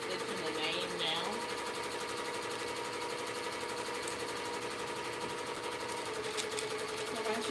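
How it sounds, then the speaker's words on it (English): A sewing machine stitching a name onto a shirt, a fast continuous mechanical whir and rattle holding steady and loud for the whole stretch. "It's actually stitching the name now."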